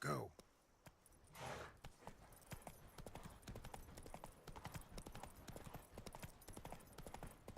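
Roach the horse galloping in The Witcher 3 video game, with fast, evenly spaced hoofbeats drumming close and clear for several seconds after a brief whinny-like burst at the start.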